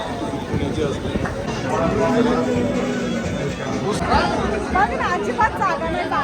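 Dense crowd of pilgrims climbing a hill path to Ekvira temple in the rain, a close, loud babble of overlapping voices with a few clearer calls standing out.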